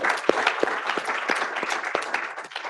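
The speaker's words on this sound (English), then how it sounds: "Round of applause for him." Loud, dense audience applause fills a live national-final science talk competition (FameLab South Africa 2023), with many overlapping hand claps forming a steady roar throughout, and sharper individual claps standing out near the front.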